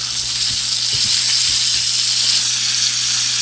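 Fish frying in coconut oil sizzles loudly and steadily in a pan, with a few low soft bumps from the fish shifting, and no one speaking.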